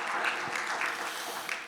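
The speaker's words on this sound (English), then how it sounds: "Can we give Jan another round of applause again?" Church congregation applauding a board member at an annual business meeting, a continuous wash of clapping, moderately loud and even, with no voices over it.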